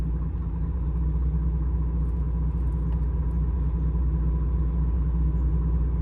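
Car axle turning on a rolling road brake tester, a steady low mechanical rumble and hum from the rollers, constant and close with no talking.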